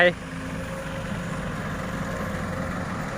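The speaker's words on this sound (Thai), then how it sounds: "เสียงรถไถ" A small walking tractor engine runs steadily with a low, even putter, fairly close, after a brief sharp sound at the start.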